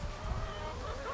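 Hens in a chicken compost pen clucking softly and continuously over a low rustling background, close and steady for about a second, with no talk.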